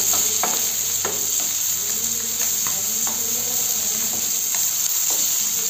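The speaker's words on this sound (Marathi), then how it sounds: "हे पहा मी याच तेलात तळते." Garlic sizzles and fries in hot oil for a prawn curry, a steady loud crackling hiss with repeated scraping strokes of a spoon stirring the pan.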